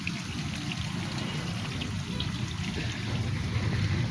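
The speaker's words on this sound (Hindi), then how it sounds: "यहाँ पे पानी चल रहा है पौधों को पानी देने के लिए" Garden irrigation water flows steadily to the plants, a continuous pouring and trickling wash that stays at an even level throughout, with no voices.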